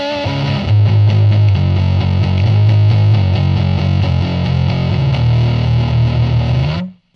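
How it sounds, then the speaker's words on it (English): Heavily distorted electric guitar, a Harley Benton TE-20 on its neck pickup at full gain, plays a loud, dense riff with chugging low notes, ringing steadily for several seconds before cutting off abruptly. "Let's hear full blast with the neck pickup."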